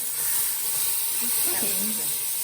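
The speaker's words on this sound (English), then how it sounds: "we're gonna saute the vegetables here, for about 10 minutes and let the vegetables caramelize" Vegetables sautéing in a pan while making a roux, a steady close hiss and sizzle filling the whole stretch, with faint voices murmuring underneath.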